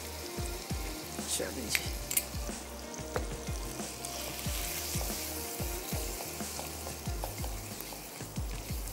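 Mutton masala with tomatoes and yogurt sizzles and fries in a pan for a Hyderabadi laal mutton, with repeated scraping strokes of a spoon stirring it throughout and a brief spoken phrase near the start.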